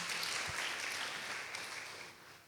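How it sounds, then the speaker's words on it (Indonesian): Congregation applauding at a Christmas Eve church service, a dense, steady wash of clapping from a crowd that fades slightly toward the end, with no voices over it. "tepuk tangan buat Tuhan"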